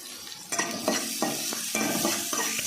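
Onions and green chillies fry in a pan for tomato thokku, the sizzle steady throughout while a spoon stirs through them in about five regular scraping strokes, close and fairly loud.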